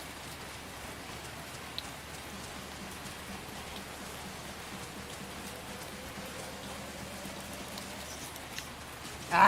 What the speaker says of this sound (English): It's fucking raining and there's no frogs.